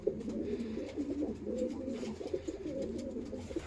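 Several pigeons coo continuously nearby, low throaty warbling calls overlapping in a steady, rolling chorus.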